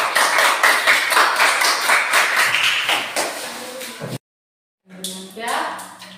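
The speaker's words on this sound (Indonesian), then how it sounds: "kita berikan tepuk tangan buat" Classroom of students applauds a student group after their presentation, a steady run of clapping lasting several seconds before a short gap and a teacher's voice.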